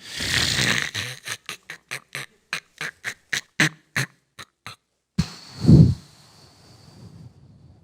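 A person imitating snoring with a rapid series of short, rhythmic snorting rasps, about a dozen in a row, then one longer, deeper snore-like rumble.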